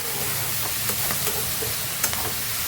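Ingredients sizzle in a hot pan for an Assamese khaar dish, with a steady frying hiss and occasional sharp clinks of a spoon stirring, and no talking.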